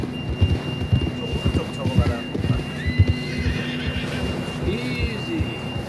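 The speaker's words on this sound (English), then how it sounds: "John was riding that horse when we left Blackwater." Horse hooves clip-clop rhythmically in Red Dead Redemption 2 as a rider travels at a steady pace, with occasional whinnies and a voice talking over the hoofbeats.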